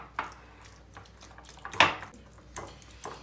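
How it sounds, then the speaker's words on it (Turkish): Avocados mashed with a fork in a wide, flat-bottomed bowl, giving a few soft, irregular clicks and squelches as the fork taps and scrapes against the dish, close and fairly quiet with no talking. "Hepsini püre haline getiriyorum çatalla şöyle eze eze"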